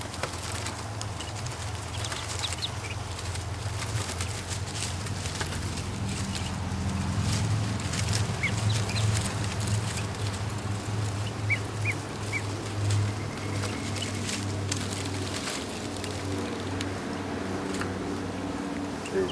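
Tiny ducklings quacking repeatedly over a steady background hum, the calls coming in scattered clusters at moderate distance.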